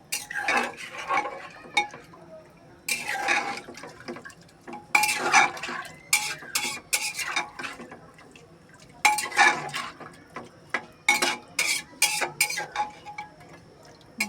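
Goat meat with spices is stirred in a pot for biryani, a metal spoon scraping and clattering against the pot in repeated bursts with short pauses, close and fairly loud, with soft sizzling between strokes.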